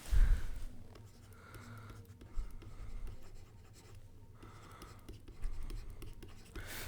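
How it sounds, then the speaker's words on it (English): A marker or pen drawing a physics diagram by hand on a board, with bursts of scratchy strokes separated by short pauses, close and moderately loud, no voices. "let me also write it down over here just to be clear"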